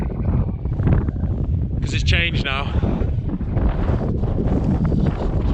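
Strong, gusty wind on a snowy mountain in Snowdonia roars and buffets steadily throughout, with someone talking over it.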